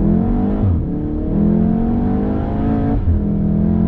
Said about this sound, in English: I got here first, and I'm just gonna full throttle go.